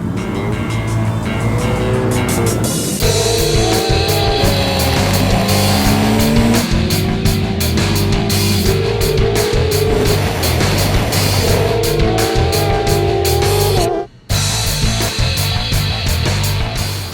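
A 2012 Honda CBR600RR motorcycle on a racetrack roars loudly and continuously, its engine pitch rising and falling through gear changes, with a brief cut near the end before the drone resumes.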